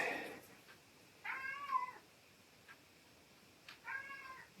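A house cat meows twice, a drawn-out call followed a couple of seconds later by a shorter one, moderately close in a quiet room during a watercolor painting demonstration.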